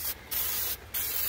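Aerosol can of cleaner sprayed into a Jeep Grand Cherokee engine bay, a loud close hiss in two steady bursts separated by short pauses.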